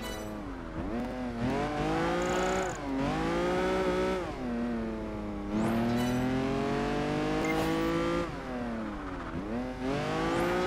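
Race car in Project Gotham Racing 4 revving hard through repeated upshifts and downshifts, its engine note climbing and dropping in waves with brief tire squeal during a power slide, loud and continuous.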